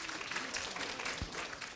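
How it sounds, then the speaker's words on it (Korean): An audience at a lecture gives a warm round of applause as a speaker is welcomed to the podium, a faint, continuous patter of many hands clapping heard from a distance. "큰 박수와 함께 연단으로 모시겠습니다"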